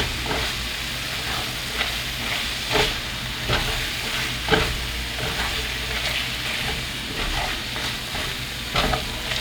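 Steady stirring of flour into garlic mushrooms in a pot, with a soft continuous sizzle and scraping rhythm, gentle spoon knocks every second or two, no voices over it.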